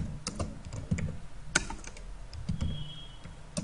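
Keystrokes on a computer keyboard click in short irregular bursts, close and clear, with brief pauses between and no one speaking.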